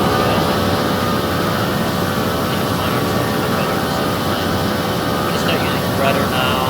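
A flight simulator airliner's engines roar steadily in the cockpit as the throttle is pushed to max, a dense continuous drone throughout with a voice talking over it.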